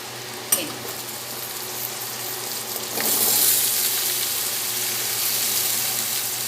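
Pieces of elephant foot yam drop into hot oil with already-fried potatoes, frying for a prawn and yam curry; a steady sizzle and crackle that swells louder midway and carries on without talk.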